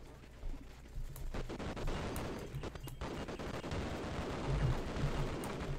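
Rapid bursts of gunfire from the Half-Life video game, dense and continuous with sharp repeated shots over a steady rumble, loud and close throughout.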